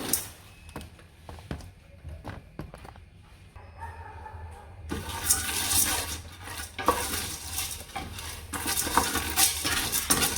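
Popcorn kernels stirred in about two tablespoons of oil in a pot on a stovetop: quiet scattered clinks and scrapes of a utensil against metal, then a louder, denser hiss and rattle of stirring.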